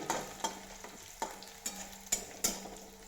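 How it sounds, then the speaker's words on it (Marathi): Garlic and chillies sautéing in a wok: a quiet sizzle punctuated by about seven sharp scraping stirs of a spatula, close by. "आता लसूण मिरची या कढईमध्ये परतून घ्यास काम चाललेलं आहे"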